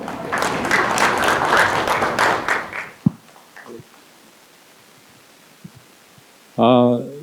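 Audience applause welcoming a professor at an economic forum marking a newspaper's fifth anniversary: roughly three seconds of dense clapping, then quiet room hum with a few scattered thumps, and a brief voice at the very end.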